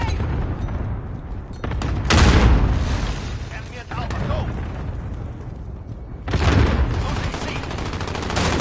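A grenade is thrown and explodes in a first-person video game shooter, heard as loud booms and gunfire bursts near 2 and 6.5 seconds over continuous battle noise, with game announcer voice lines underneath.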